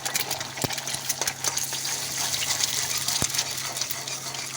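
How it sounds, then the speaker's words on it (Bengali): An egg fries in a pan of hot oil, with a bright continuous crackling hiss and a few sharp clinks from a utensil against the pan, with no talking. "এবার ডিমটা দিয়ে দিচ্ছি, এতেই ভেজে নেব"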